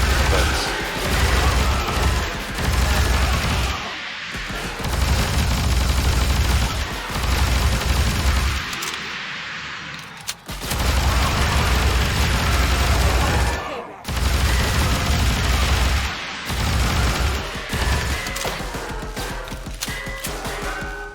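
Gunfire from the Ghostship Chronicles video game erupts in loud, dense volleys of rapid shots and crashing impacts, broken by a few brief pauses, over about twenty seconds of nearly nonstop combat noise.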